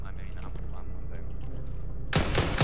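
An explosion followed by a quick burst of gunfire in a roleplay video game at a checkpoint, loud and sudden at the end after a stretch of quieter background hum.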